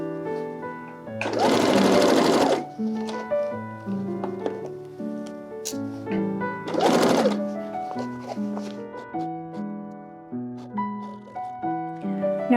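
Two short bursts of a sewing machine stitching a collar onto a bodice, each lasting a second or so, rise over soft background music with stepped melodic notes.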